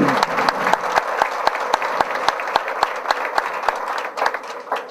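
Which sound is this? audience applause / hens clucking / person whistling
audience applause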